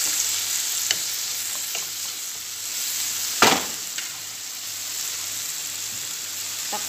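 Food stirred in a hot frying pan, a continuous sizzle broken by a few sharp scrapes and clinks of the utensil, one louder knock near the middle; no one speaks.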